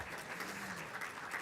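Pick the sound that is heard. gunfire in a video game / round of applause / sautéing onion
round of applause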